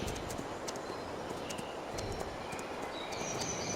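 Horse hooves clip-clopping at an even pace during a ride in a video game, a steady rhythmic run of clops over faint outdoor ambience with occasional high chirps, no speech.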